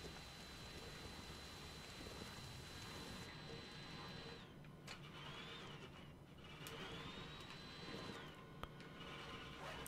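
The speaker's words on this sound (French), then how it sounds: "il se met à pleuvoir" Steady rainfall in the video game Watch Dogs 2 makes a continuous, even hiss that fills the whole stretch, with a faint thin whine drifting above it and no voices.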